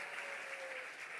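A church congregation applauding to acclaim the Lord: steady, dense clapping from many hands, even in level and somewhat distant, with no voices over it.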